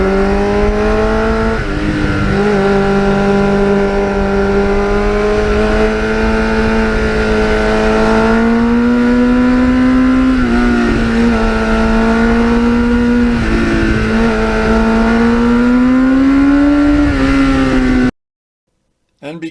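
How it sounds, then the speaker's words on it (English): A Kawasaki GPX750R motorcycle fitted with a MUZZY muffler riding under throttle, a loud, steady engine drone with rising and falling pitch as revs change, continuous until it cuts off abruptly near the end. "because that MUZZY muffler is a little louder, actually it's a little louder than I'd like, and it gets really loud at full throttle"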